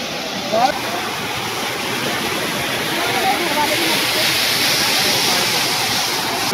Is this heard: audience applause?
no